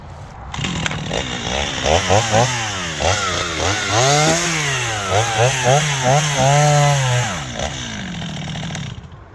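A Husqvarna chainsaw cuts partway through a tree trunk beside a road, its engine close and loud, rising and falling in pitch as the throttle surges throughout.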